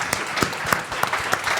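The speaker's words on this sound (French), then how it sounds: "Une grosse main d'applaudissements." An audience at an International Women's Day panel on career progression claps for the panelists, with a short burst of scattered claps at moderate volume and no voices over it.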